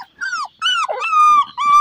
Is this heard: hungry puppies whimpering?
yes